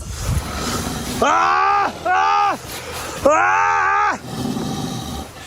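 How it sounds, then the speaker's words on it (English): A camper yells loudly at a bear trying to get into his tent, three long, strained, harmonic shouts in quick succession, close to the microphone with brief gaps between them. "the camper resorts to a bold move, yelling"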